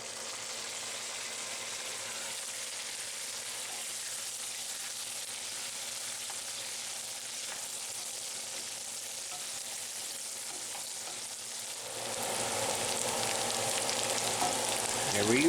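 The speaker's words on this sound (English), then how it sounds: "Now we can just let this braise for just a few minutes." Breakfast hash of golden potatoes braises in a Stargazer cast iron skillet under a Wagner aluminum Dutch oven lid, a steady close sizzle that swells louder and brighter near the end.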